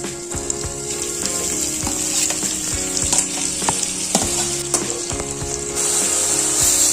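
Tomatoes dropped into onions frying in a pan for pepper chicken, a loud close sizzle with repeated metallic scrapes and knocks of a spoon against the pan.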